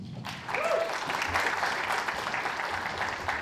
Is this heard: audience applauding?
yes